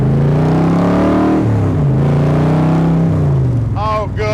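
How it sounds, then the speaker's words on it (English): Exhaust from a 1965 Shelby Cobra Kirkham while driving, a loud deep engine drone that rises and falls in pitch, close and continuous, with a voice briefly heard near the end. "Now we get to listen to pipes."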